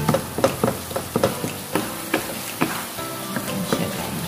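Chicken frying in a pan, steady sizzling with scattered sharp pops and light clatters.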